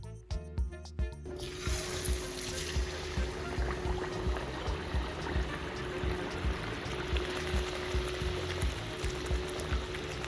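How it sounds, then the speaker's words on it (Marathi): Chicken vada dropped into hot oil, first a few sharp splash-like bursts, then a steady loud bubbling fry hiss that continues with rhythmic crackling pulses throughout. "तर आपण तेलामध्ये वडा सोडून घ्यायचा आहे."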